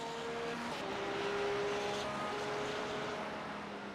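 A GT3 race car engine roars steadily during the Nürburgring 24 Hours, loud and close, with a high droning whine and broad road noise that swells slightly midway.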